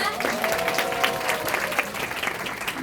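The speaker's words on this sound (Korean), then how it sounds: "큰 박수로 모시겠습니다" An audience at an indoor gathering breaks into steady, dense applause to welcome a speaker to the stage, the clapping sustained and evenly loud for about three seconds.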